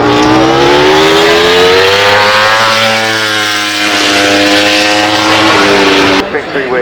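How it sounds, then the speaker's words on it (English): A Porsche 936/77 race car at the Goodwood Festival of Speed, its engine a loud sustained drone with rising and falling pitch as it passes close by, cutting off abruptly near the end under crowd ambience. "this is the Porsche 936 77"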